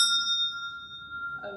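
A bell rings at a launch party, a sustained bright tone that hangs steadily for more than a second before a burst of crowd noise and voices enters near the end.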